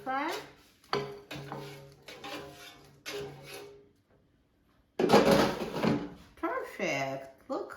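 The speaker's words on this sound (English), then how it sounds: "So let's take the peppers out of the air fryer." An air fryer drawer slides open with a brief clatter as roasted ancient red sweet peppers are taken out, with a person talking before and after.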